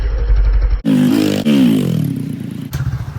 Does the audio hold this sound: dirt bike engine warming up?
yes